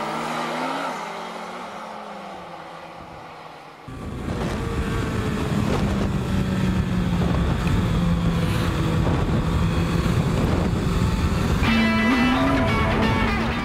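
A Suzuki Hayabusa motorcycle pulling hard in third gear, its engine a loud, steady high-revving drone that holds on after a sharp swell partway through and rises in pitch near the end.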